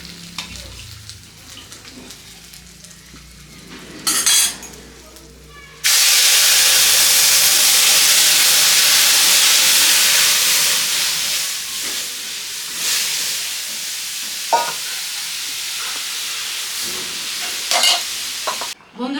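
Dal hits hot oil in a pan with a sudden loud sizzle that hisses steadily and slowly fades, with scraping stirring sounds and a few clinks of the utensil throughout.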